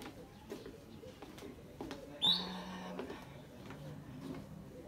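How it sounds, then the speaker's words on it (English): Outdoor birdsong in George, South Africa: faint scattered calls and a brief louder chirp over quiet ambient background. "The bird sounds are different here to anywhere back home."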